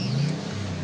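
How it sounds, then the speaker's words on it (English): A Porsche flat-six engine revs outdoors at a vintage car show, a brief steady throaty drone at moderate distance. "Here's a lovely sound of another Porsche engine, flat 6, doing a bit of revving over there."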